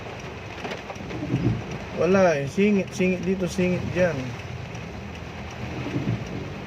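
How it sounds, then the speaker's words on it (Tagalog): Heavy rain pours steadily in traffic with a constant hiss, while someone talks over it in the middle. "ang lakas ng ulan"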